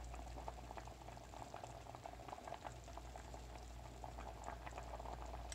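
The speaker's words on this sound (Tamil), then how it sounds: "இப்போ பாருங்கள், புளியோடு நல்லா சேர்ந்து கொதிக்குது." Chickpea kuzhambu with tamarind boils steadily in a pot, a dense, continuous bubbling and popping that stays close and even throughout, with no voices over it.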